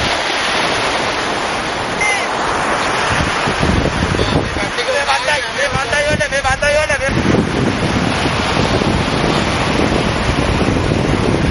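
Rough, churning sea surf and strong wind on the coast roar as a continuous loud wash, with wind buffeting the microphone and no voices.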